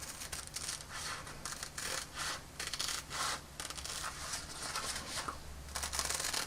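Scissors snip through cape fabric, two layers at once, for a vintage Mego Batman toy, giving repeated quiet crisp cutting strokes with soft fabric rustle in an even rhythm.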